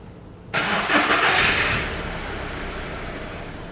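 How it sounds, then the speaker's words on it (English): Vehicle engine cranking over and catching into a loud burst of revs, then settling to a steady idle, heard up close without speech. "John, if you can start the vehicle"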